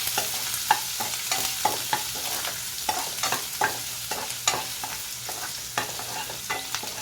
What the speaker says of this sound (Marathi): तर आता मी तेल तापलेलं आहे कांदा टाकत आहे